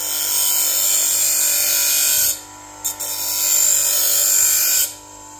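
A grinder sharpening a blade to clear off screw marks gives a loud, steady high whine that drops away twice, with a brief tap between and a short resumption.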